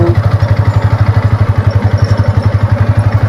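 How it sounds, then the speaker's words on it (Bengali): A video game motorcycle engine throbs in a fast, steady rhythm, close and loud, with no talking. "বাইকটা স্টার্ট হলো কিন্তু"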